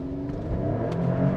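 A 3-litre twin-turbo V6 car engine making 523 horsepower revs up close, a dense mechanical drone that rises and builds in loudness over a brief moment.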